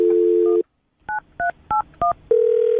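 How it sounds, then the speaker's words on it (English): Telephone keypad dialing: a steady dial tone stops, four short evenly spaced touch-tone beeps follow, then a continuous tone resumes, all loud and clean. "I'm going to dial the phone number right now"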